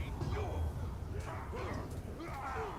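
A dog in the video game Shadow of War barks and whines as it mauls an enemy, with short yelping bursts amid dense battle noise, close and fairly loud.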